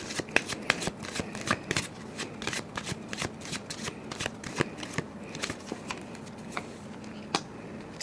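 Tarot cards being shuffled by hand, a rapid run of crisp riffling flicks and soft slaps that keeps going steadily from start to finish, close and moderately loud with no voices.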